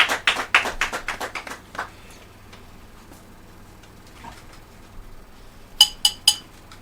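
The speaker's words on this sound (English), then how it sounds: "Please, a round of applause for her." At a girls' secondary school oratory competition, an audience gives a short burst of sparse hand claps. The claps fade into quiet, then three sharp claps ring out near the end.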